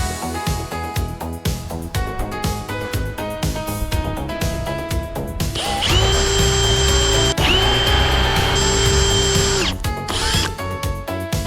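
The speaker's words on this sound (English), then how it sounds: "This drill bit looks almost the same size as the corkscrew." A power drill fitted with a bit spins in short bursts and then runs in one long, loud, steady whine, close and alone.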